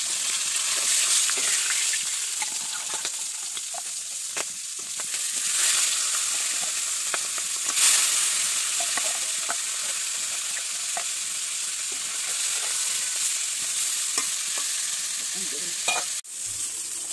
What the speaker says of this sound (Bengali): মাছ ভাজা কড়াই দিচ্ছি